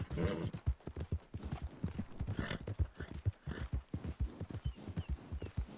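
Hooves of a Missouri Foxtrotter horse clip-clop steadily in Red Dead Redemption 2 Online, a quick continuous run of close, distinct hoofbeats with no talk over them.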